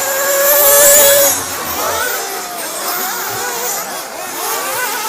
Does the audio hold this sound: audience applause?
no